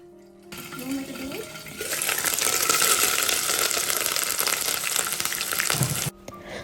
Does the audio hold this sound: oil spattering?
yes